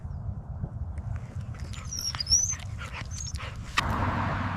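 A lost dog whimpers softly with faint high whines over steady low rumbling background noise, and a brief sharp knock near the end.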